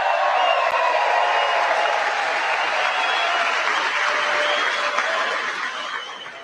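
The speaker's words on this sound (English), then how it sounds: "Now they're going to get up and clap." Audience applause at the State of the Union, a dense, sustained wash of clapping from a large chamber crowd that holds steady and then begins to taper off near the end.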